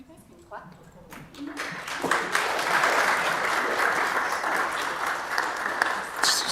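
Audience clapping at a city council meeting, starting with a few scattered claps and building into steady applause that continues to the end.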